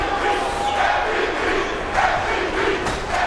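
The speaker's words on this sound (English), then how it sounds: "Just listen to this crowd." A large fight crowd screams and roars continuously in an arena before a welterweight championship bout, a dense, loud wall of cheering voices with surges of shouting.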